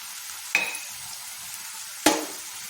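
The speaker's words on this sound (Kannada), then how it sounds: "ಇದನ್ನು ಕೊಡೋದ್ರ ಜೊತೆ ಫ್ರೈ ಮಾಡ್ಕೊಳ್ಳೋಣ ಇದು ಸ್ವಲ್ಪ ಫ್ರೈ ಆಗಲಿ" Bamboo shoots fry in a pan with turmeric and green chili powder, with two brief bursts of sizzling as the pieces are stirred over a quiet background.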